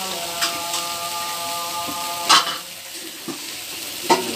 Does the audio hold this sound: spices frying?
yes